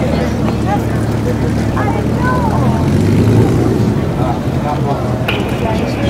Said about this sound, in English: The big and legendary Flying Fortress.